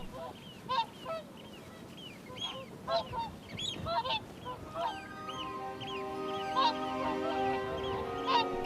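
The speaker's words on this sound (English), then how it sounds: "The swans are in transit" Swans resting in transit on a wild Scottish island give repeated honking calls, several birds overlapping at moderate distance, the bugling growing steadier and more sustained toward the end.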